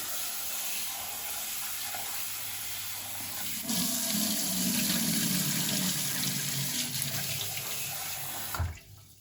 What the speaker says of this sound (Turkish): Bu süzülürken eti de yıkayıp eti de koyayım.